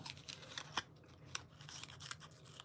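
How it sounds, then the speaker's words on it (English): Scissors snip through a cut piece of adhesive foam strip during a craft project, giving several crisp, close, quiet cuts spread across a couple of seconds with no talking. "I could have cut a little bit more, so I can snip a bit more off"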